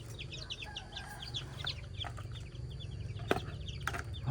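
Hens and young chicks at a rural farmyard in Thailand cluck and peep in soft, scattered calls, with a few sharper squawks later, at moderate distance and no voices.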